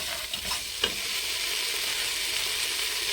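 A spoon stirs goat meat stew with chopped coriander in a sizzling pot, with a few scraping strokes early on over a steady, fairly loud frying hiss.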